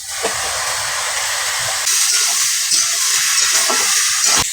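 Papaya, potato and pumpkin stems cooking in a pan just after water is added, a loud steady steaming hiss and bubbling that brightens partway through, with light scraping, no talking.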